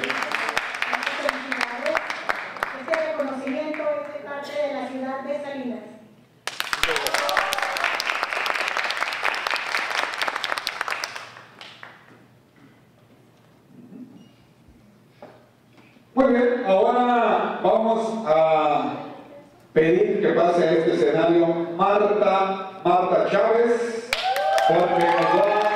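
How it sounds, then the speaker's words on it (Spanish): An audience claps loudly during an award ceremony for the Libro de Oro in Salinas, with dense applause in two bursts, then a quiet stretch followed by someone speaking Spanish into a microphone. "Así de que le damos fuerte el aplauso también."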